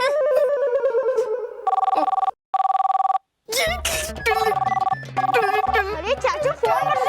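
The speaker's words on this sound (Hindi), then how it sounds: "अरे चाचू फोन बज रहा है।" A mobile phone ringtone plays loudly in a home, a bright electronic melody that cuts in and out in bursts, layered with other music and sound effects from a children's fantasy TV show.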